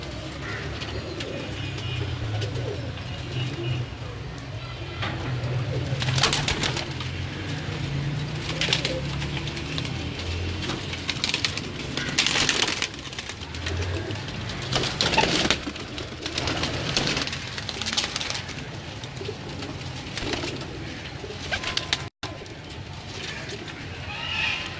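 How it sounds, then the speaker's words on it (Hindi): Salara Teddy pigeons cooing in a loft, with repeated soft, throaty coos, occasional wing flaps and shuffling, close and continuous throughout with faint background noise. "ये भी सलारा टैडी कबूतर है।"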